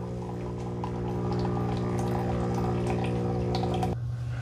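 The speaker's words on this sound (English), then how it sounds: "we're starting to get some hot water come out" A Ninja Luxe Cafe ES601 espresso machine pumping out hot water: a steady, humming pump drone with faint watery trickle, running evenly and then cutting off abruptly just before the end.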